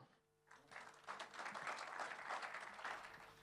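A conference audience at a carbon-accounting event applauds as speakers come on stage, a faint, distant wash of clapping that swells after a brief pause and holds steady.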